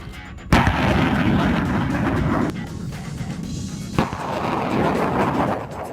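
M142 HIMARS rocket launcher firing, a sharp blast at the start followed by a sustained loud roaring rush, a second crack about midway, then the roar continuing, no voices.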